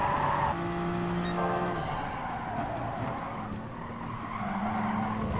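Toyota Supra sliding through a corner in Gran Turismo Sport at Suzuka, Kyoto or Fuji Speedway, a sustained tire squeal over steady engine drone, loud and close, shifting pitch across the few seconds.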